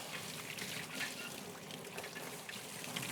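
Water rinsing a soil blocker, a continuous soft splashing trickle heard close and fairly quiet, with no talk.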